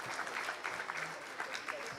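Post-lunch audience at a global economic policy forum gives a soft, steady round of applause, faint and distant throughout.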